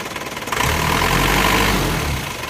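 A car engine, its thermostat removed while the radiator is flushed with tap water, revs up from idle to a steady, loud hum for about two seconds before settling back, with no voices.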